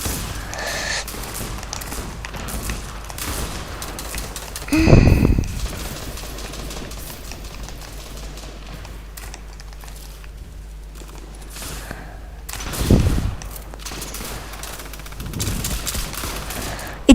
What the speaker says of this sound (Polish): ta broń, którą teraz mam, którą strzelam teraz